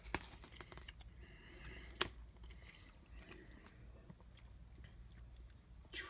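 Someone chews Barnana peanut butter dipped chewy banana bites close to the mic, with soft, quiet, irregular mouth sounds and a couple of sharp click-like bites over a low background hum.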